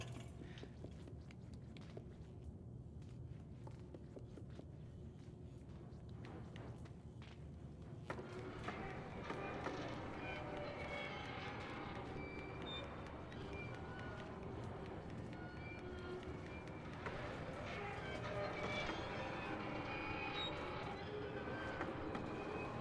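Train running in the video game Little Nightmares, a steady low rumble of rolling wheels and rail clatter throughout, building louder in the second half.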